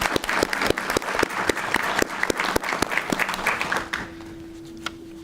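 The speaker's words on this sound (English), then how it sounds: "so we can give you a round of applause?" Close, loud applause from a school board meeting audience, crisp individual claps in a lively rhythm for about four seconds, then tapering abruptly into a few stray claps and a steady hum.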